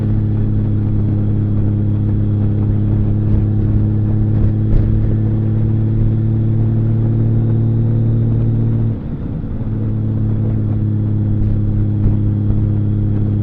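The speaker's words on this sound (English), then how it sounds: "it's pretty loud on this bike actually, but it's a different smoother type of a noise" A Honda Valkyrie motorcycle engine idles steadily and close by, a loud, smooth, deep rumble that holds even throughout, with one brief dip and recovery partway through.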